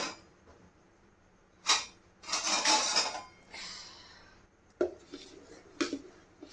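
Tomato sabudana papad batter, salted, being beaten in a bowl, heard as a few short scraping and clinking bursts separated by quiet gaps, close and moderately loud.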